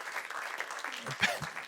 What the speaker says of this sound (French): Jérémy, on peut t'applaudir.